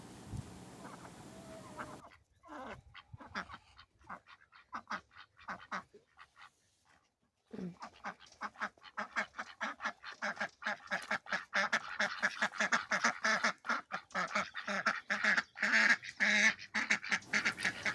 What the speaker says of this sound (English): These are our oldest ducks.